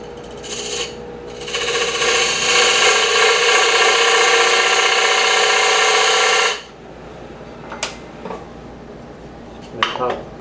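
Wood on a faceplate-mounted lathe, turned into a simple box, is cut with a Badan tool in a harsh, steady scraping rasp lasting about five seconds before it stops, followed by a few faint clicks.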